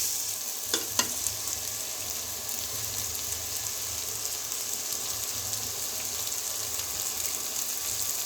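Beaten eggs and curry sizzle in a hot frying pan in a home kitchen as they are stirred together, a steady, soft crackling hiss with a couple of faint scraping clicks early on, and no talking.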